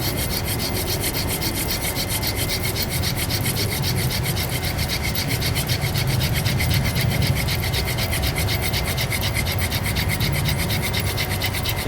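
A privet spindle spun by hand drill, with no bow, grinds against a wooden hearth board in a continuous rough, rasping friction whirr, close and steady throughout with rapid back-and-forth pulsing.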